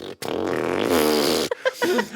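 A brass player buzzes their lips in imitation of a fart, producing a loud, close, pitched raspy blat lasting over a second, followed by a short sputtering tail.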